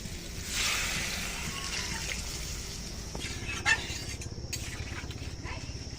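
Water poured into a pan of crab curry with potato and sweet pumpkin, a steady close splashing trickle that rises, then fades into a soft simmer with faint clatter.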